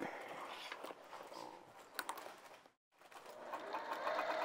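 A sewing machine stitches around the top of a fabric bag in short runs, whirring close by, pausing briefly to silence midway, then starting again.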